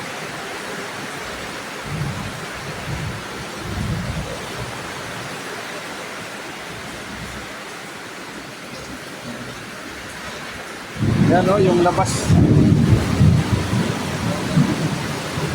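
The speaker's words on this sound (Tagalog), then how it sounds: "Lakas ng ulan dito ngayon." Heavy rain pours steadily with a constant dense hiss, swelling louder partway through; a voice speaks briefly under the downpour.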